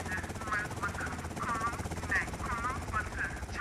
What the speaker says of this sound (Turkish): İnmedin ha helikopter.